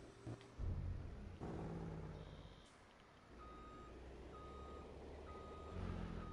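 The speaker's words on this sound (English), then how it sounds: "Let's just park the truck right there." Truck reversing while parking in Farming Simulator 22, a series of evenly spaced high reversing beeps over a low idling engine rumble, with a hiss of air brake partway through.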